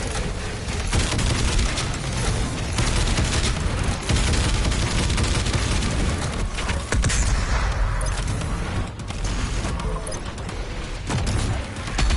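Dense, loud gunfire from Doom Eternal's shotgun and other weapons, with booming shots and explosive bursts tumbling over one another throughout, a relentless barrage with no pauses.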